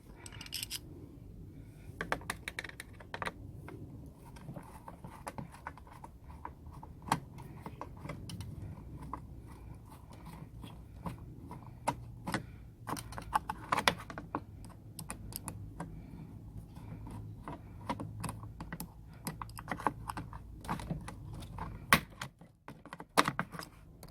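Screws being removed from the front grille of an Acura TL, a scattered run of small sharp clicks, taps and metallic ticks over a quiet background, fairly close and without talk.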